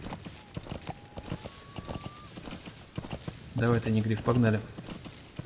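Steady clip-clop of horse hooves trotting at an even pace in the video game Metal Gear Solid V: The Phantom Pain, with someone talking over it and a brief game-like whine.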